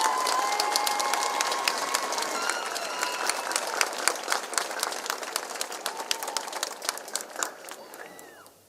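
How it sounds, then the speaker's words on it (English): An audience at a school district graduation ceremony applauds, a dense wash of many hands clapping that holds steady before gradually thinning and trailing off. "Please give them a round of applause."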